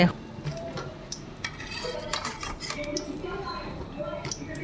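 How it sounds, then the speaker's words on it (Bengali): Deep-browned fried potatoes are lifted out of hot oil onto a plate, with a utensil scraping and clinking against the pan in short taps over a low background sizzle. "এখন আমি আলুগুলোকে একটা প্লেটে তুলে নিচ্ছি।"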